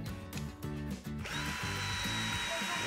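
A DeWALT cordless screwdriver whines in short stuttering bursts as it reverses a screw out, then holds a steady high motor drone for the final stretch, close and loud with no talking.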